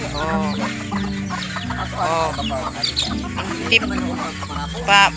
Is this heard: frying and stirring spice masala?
no